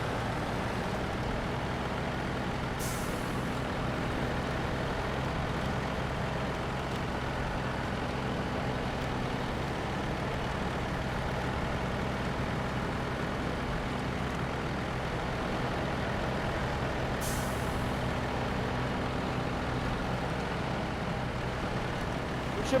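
A heavy truck engine rumbles in SnowRunner on an Alaska logging run, a steady low drone over twenty seconds with two brief hissing bursts, a voice talking over it at times.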